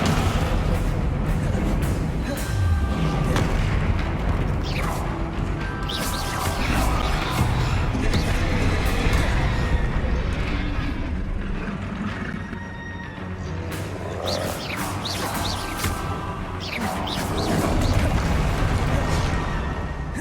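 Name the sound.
spell impact effects from video game Hogwarts Legacy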